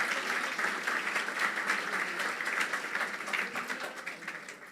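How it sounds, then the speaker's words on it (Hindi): A church congregation claps together in steady, dense applause for the children, loud and continuous throughout with no voices over it. "बच्चों के लिए तालियां बजा दें भाई जो नीचे यहाँ पे बैठते हैं।"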